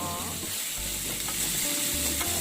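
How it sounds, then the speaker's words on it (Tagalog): Chicken gizzards sizzle and crackle steadily in a hot pan, a loud continuous frying hiss with low bubbling underneath and no talking. "Then fry the gizzard."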